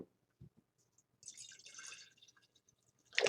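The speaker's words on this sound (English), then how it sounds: "I'm going to add some tonic water." Tonic water is poured into a jar in a kitchen chemistry demonstration. Faint scattered drips lead into a brief splashing pour, then a sharper splash or clink at the close, with no talking.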